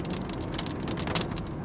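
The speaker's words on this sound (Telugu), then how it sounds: "పెద్ద చినుకులు పడుతున్నాయి" Large raindrops beat on a car on a highway, a loud, dense, continuous drumming with slight surges in strength and no voices.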